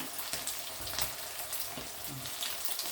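Riceberry sticky rice balls coated in chicken egg and rubbed with salt fry in hot oil, giving a steady, dense crackling sizzle throughout with no talking.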